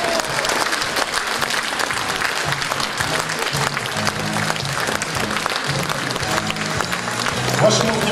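Concert hall audience applauding as a combined men's choir walks on at an anniversary evening, dense continuous clapping throughout with a crowd murmur and faint music beneath.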